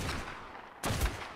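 Rapid gunfire crackles in an Ark: Survival Evolved fight, a dense loud burst of overlapping shots that briefly dips and then surges again, with no voices over it.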